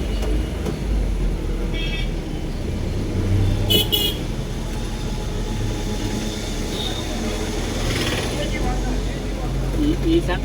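A truck crawls through a road traffic jam between Vinukonda and Narasaraopet, its engine rumble steady and close. Vehicle horns toot briefly a couple of times, and voices murmur under the noise.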